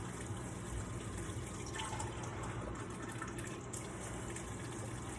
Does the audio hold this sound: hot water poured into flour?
yes